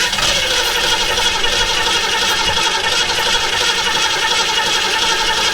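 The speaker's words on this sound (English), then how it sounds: "Give the starter a break." The starter motor of a 1967 Ford Mustang that won't start cranks the engine continuously, a loud, steady, whirring grind with a rattling edge, heard up close and alone.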